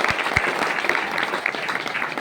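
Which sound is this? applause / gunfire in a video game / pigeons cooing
applause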